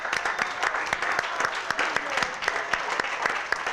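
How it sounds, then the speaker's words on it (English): Audience applause at a public conversation event in Selma, with crisp individual claps standing out over a broad crowd clapping, lively and uneven, a few voices faintly mixed in. "Give him another round of applause."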